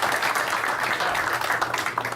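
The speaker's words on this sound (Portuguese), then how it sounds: "uma salva de palmas também para os nossos convidados e visitantes" Applause from members at a Rotary Club meeting for guests and visitors, a dense, steady wash of clapping filling the whole moment.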